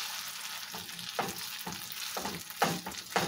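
Tater tots sizzle and crackle in a frying pan, a close, steady hiss broken by several bursts of louder spitting as they are pressed and moved with a spatula.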